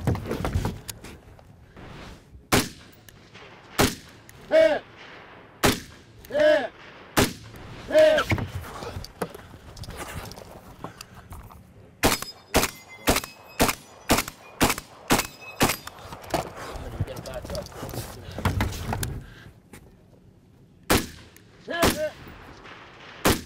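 Rifles and pistols fire on a competition shooting stage, sharp loud reports at irregular intervals, with a fast rapid string in the middle, plus faint metallic pings and some background voices.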